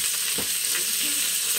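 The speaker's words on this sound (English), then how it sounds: "We're gonna saute all the vegetables for about 4 to 6 minutes till they're a little soft" Vegetables sauté in fat inside an Instant Pot after garlic is grated in, giving a steady, close hiss of sizzling that holds at an even level with no talking.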